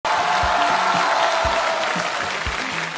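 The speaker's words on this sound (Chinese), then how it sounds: "掌声送给三位" An audience applauds three performers after a comedy sketch, a dense, continuous wash of clapping with a few louder thumps scattered throughout.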